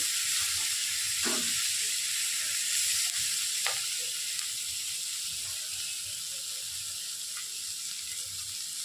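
Chilli chicken with turmeric added is frying in a pan and being stirred. A steady, loud sizzle fills the whole stretch, and a few faint spatula scrapes cut through it.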